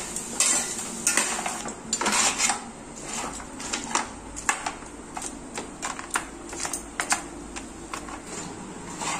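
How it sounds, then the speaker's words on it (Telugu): Salt and turmeric being mixed by hand over pieces of bottle gourd, a rapid patter of light clicks and rustles that keeps going, close and moderately loud. "కొంచెం పసుపు వేసుకొని ఆ రెండు ఉప్పు పసుపు బాగా కలుపుకోవాలి."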